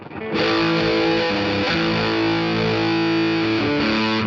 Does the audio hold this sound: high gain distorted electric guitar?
yes